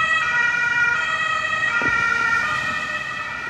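An ambulance siren passes outside, its steady wailing tones loud and continuous from start to finish with no voices.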